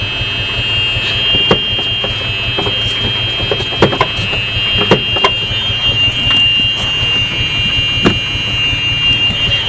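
A golf cart's small engine revs and rumbles steadily while its high electronic backup beep persists, with scattered clanks and knocks throughout.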